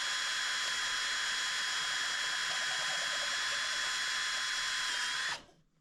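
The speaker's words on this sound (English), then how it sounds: "we are going to very slowly and carefully drill our holes through this acrylic" A high, steady whine of a power drill boring slowly through acrylic, running continuously for about five seconds before cutting off abruptly.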